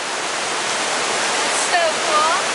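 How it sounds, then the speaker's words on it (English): A waterfall along the Harding Truck Trail roars as a steady, loud wash of broadband rushing water, with faint bird-like chirps near the end. "How crazy is that intro of the waterfall?"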